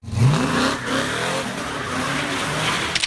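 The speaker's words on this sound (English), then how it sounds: "Is it the scream of the engine?" A muscle car engine revs hard and close, a loud rising roar with a brief tire-squeal edge, then settles into a sustained rumbling growl, heard alone without talk.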